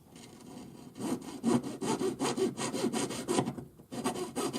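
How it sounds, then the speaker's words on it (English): A jeweller's saw trims metal for a spiral pearl pendant, giving quick rhythmic rasping strokes close by, steady back-and-forth with a brief pause near the end. "we can also use our saw"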